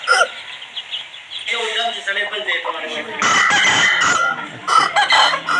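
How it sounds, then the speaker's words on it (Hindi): An Aseel rooster crows nearby, a long, strained call that rises and holds, with some rough background noise around it. "असील मुर्गे की अजान के बारे में है"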